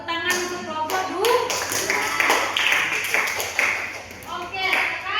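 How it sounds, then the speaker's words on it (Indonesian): A primary school class claps for a group of classmates, with a scattered burst of children's hand claps and taps mixed with lively kids' voices and chatter, close and uneven in rhythm. "tepuk tangan untuk kelompok 2"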